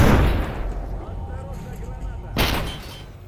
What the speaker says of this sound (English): Because I'm going to kill all of you with my nades.